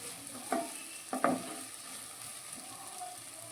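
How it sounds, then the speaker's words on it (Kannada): Okra (bhindi) frying in oil in a pan, a steady close sizzle with a few sharp scraping stirs near the start, no voices. "ಇವಾಗ ಒಂದು 2 ನಿಮಿಷ ಹಾಗೆಯೇ ಫ್ರೈ ಮಾಡ್ಕೊಳ್ಳೋಣ."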